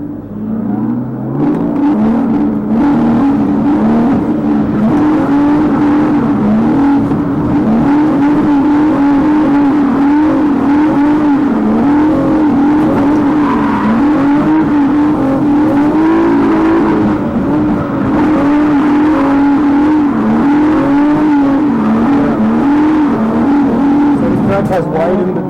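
Drift car lapping a race track, its engine droning loudly and steadily for the whole stretch, rising and falling slightly with throttle, heard from inside the car.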